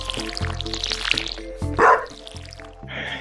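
A small dog barking in the farming game Stardew Valley, a string of short yips over a steady musical game soundtrack, with a brief watery splash in the middle.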